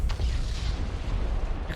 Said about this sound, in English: That's a bomb.